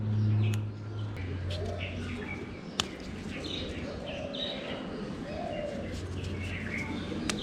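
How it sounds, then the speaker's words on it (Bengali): Birds chirp and coo all around a home, including dove-like cooing, scattered calls near and far over a low background hum, with no speech. "চারিদিকে পাখির এত কিচিরমিচির শব্দ"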